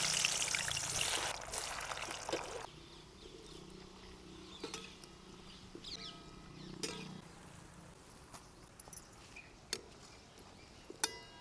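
Amla dropped into hot, pure wood-pressed coconut oil: a brief loud splash and hiss at first, then faint crackling and soft pops, with scattered sharp ticks near the end.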